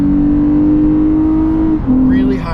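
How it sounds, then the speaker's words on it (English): The engine of a Lexus RC350 F Sport RWD holds a loud, steady droning growl from inside the car, dips briefly as the pitch shifts, then carries on at a slightly higher tone, with no talking over it. "Listen to that induction growl."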